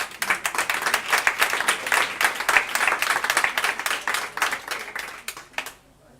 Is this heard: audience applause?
yes